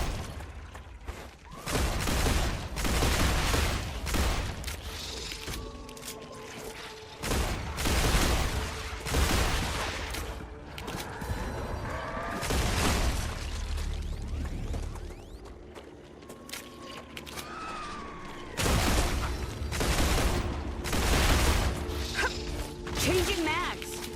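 Machine gun fire in the sci-fi game StarRupture, loud repeated bursts of automatic shots with crashing impacts, a continuous game soundscape, and a player talking over the action.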